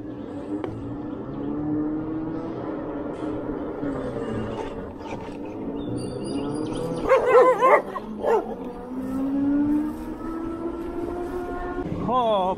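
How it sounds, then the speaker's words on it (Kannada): Several dogs bark and yip sharply in bursts around a rider on an Ola S1 Pro Gen 3 electric scooter, close and loud, mixed with a voice talking. "ಬೆಳಗ್ಗೆ ನಾಯಿಗಳು ಅಟ್ಯಾಕ್ ಮಾಡ್ಬಿಟ್ವಲ್ಲ ಗುರು."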